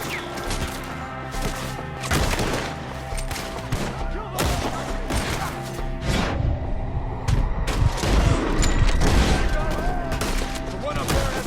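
A gunfire shootout in Red Dead Redemption 2, with repeated rifle and pistol shots cracking near and far in an irregular volley as a voice shouts over the fighting.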